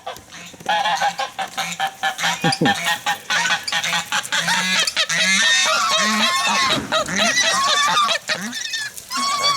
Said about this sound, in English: he has Chinese geese, folks